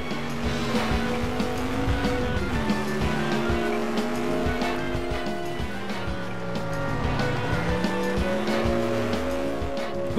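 A car drives steadily in The Simpsons Hit & Run, with an engine whose pitch rises and falls as it shifts gears, tires squealing and a constant loud game soundtrack throughout.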